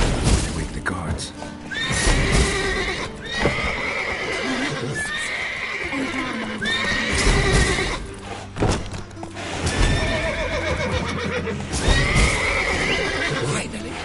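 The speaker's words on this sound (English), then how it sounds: "Gotta calm all the horses before they wake the guards." Several horses in the video game The Witcher 3 neigh and whinny repeatedly, loud and close, with hooves clip-clopping and people talking in the background.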